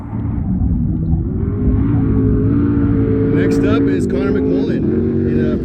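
A race car at the start of the Vegas to Reno off-road race pulls away with a loud, steady engine drone and rising revs, close up, under a commentator's voice.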